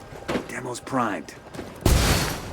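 Gunfire in Ghost Recon Wildlands: a loud, close burst of shots erupts abruptly after someone speaks briefly, carrying on to the end.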